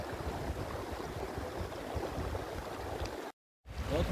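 Mountain stream water at Shatung Nala in Deosai rushes in a steady, fairly close broadband wash, cut off by a brief drop to silence before the flow returns.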